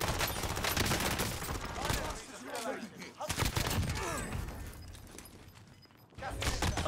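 Rapid gunfire in a multiplayer shooter video game, dense volleys of shots and impacts at close range, loud and continuous with brief lulls, while a player talks over it.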